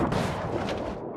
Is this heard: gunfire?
yes